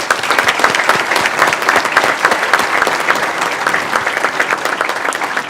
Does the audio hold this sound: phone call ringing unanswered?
no